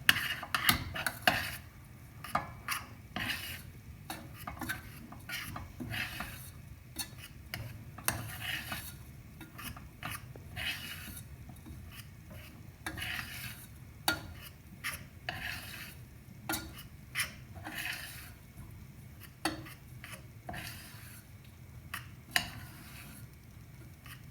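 A thick solid shampoo mixture being stirred in a bowl, with continuous scraping and knocking of the utensil against the container in an irregular rhythm, close and quiet, no voices.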